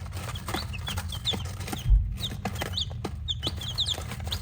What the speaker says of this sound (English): these are my new chicks.